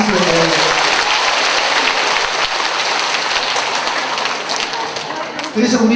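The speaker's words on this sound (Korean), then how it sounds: "박수 한번 쳐주세요." An audience at a laughter-therapy session in a district office claps loudly and densely, a close, continuous rattle of hands that thins slightly near the end, with faint voices mixed underneath.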